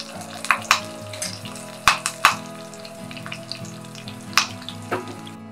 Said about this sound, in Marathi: आता हा तडका मी यावरती घालत आहे.